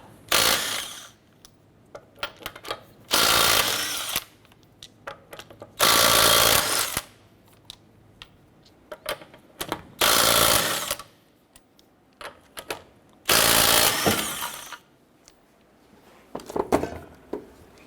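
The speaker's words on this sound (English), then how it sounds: "Using a 19mm socket, let's go ahead and remove our lug nuts." A power tool with a 19mm socket spins lug nuts off the front wheel of a 2008-2012 Honda Accord, loud ratcheting bursts of a second or two each, about six of them separated by short pauses.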